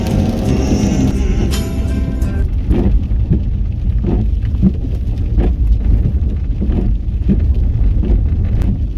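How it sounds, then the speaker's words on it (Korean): Heavy rain pours steadily in a quiet outdoor spot, a dense constant hiss with scattered sharper drops and knocks, loud and near and alone. "북쪽으로 올라갈수록 빗방울이 굵어지고 있습니다."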